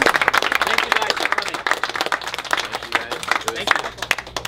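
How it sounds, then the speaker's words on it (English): Applause and clapping from a small crowd at a sneaker pop-up shop in Houston, a steady patter of hands mixed with cheering and chatter throughout. "let's give a round of applause for Slam Dunk for letting us help"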